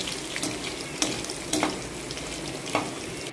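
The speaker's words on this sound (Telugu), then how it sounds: "శనగిత్తనాలు, తాలింపు గింజలు, కాజు వేసి కొంచెము ఫ్రై చేసుకోవాలి." Peanuts, seasoning seeds and cashews frying in hot oil in a home kitchen, a steady close sizzle with a few sharper crackles and stirring clicks, no voices.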